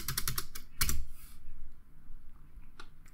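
Quick burst of close computer keyboard typing, a dimension being entered for a wall in Revit, with rapid key clicks at the start, a brief pause, then a couple of scattered final taps.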